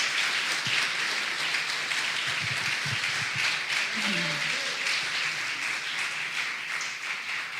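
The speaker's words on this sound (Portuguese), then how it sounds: "As palmas louvam o nome do Senhor." A church congregation claps in praise during a worship service, a continuous wash of many hands at moderate level, with a few voices and a brief tonal murmur rising through the middle.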